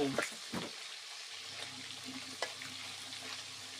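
Pork frying in a pan in a home kitchen in the early morning: a low, fairly faint sizzle with a few clanks of stirring near the start, while people talk quietly over it.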